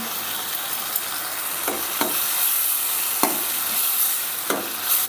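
Chili powder and sambar powder sauté with softened tomato in a pan for a drumstick-leaf toor dal kootu. A soft, steady sizzle runs underneath while a spatula scrapes the pan at irregular intervals, close by and with no talking.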